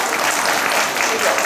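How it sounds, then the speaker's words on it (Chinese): Audience at a primary school graduation ceremony applauding the teachers, dense steady clapping from many hands filling the room, loud and close. "我们是不是用掌声也感谢2位老师？"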